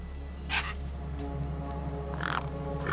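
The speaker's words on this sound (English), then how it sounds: "The gang birds were eyeing up the corpse hungrily." In the video game Beyond a Steel Sky, crows caw over a corpse, two short harsh calls rising above a steady low hum of background ambience.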